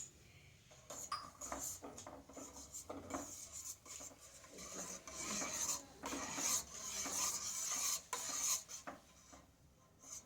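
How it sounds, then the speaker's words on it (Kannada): A metal spoon scrapes and clinks in a cup while stirring hot instant coffee at home, a faint rhythmic rasp with light pings that repeats for several seconds. "ಓಕೆ, ಸ್ಪೂನಲ್ಲಿ ತಿರುಗಿಸಿ"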